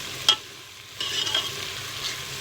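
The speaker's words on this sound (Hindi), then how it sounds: "2 मिनट तक इसे फ्राई करते रहेंगे। चम्मच जो है वो हम बराबर हिलाते रहेंगे" Tomato masala frying in a pan while a spoon stirs it, a faint steady sizzle with a sharp scrape near the start and louder stirring rustles partway through, no talk.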